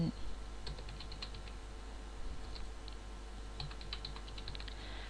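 A registration code is typed on a computer keyboard, producing sparse, light clicking keystrokes in small clusters, faint over a low electrical hum in a quiet room.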